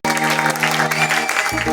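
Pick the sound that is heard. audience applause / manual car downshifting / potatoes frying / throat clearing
audience applause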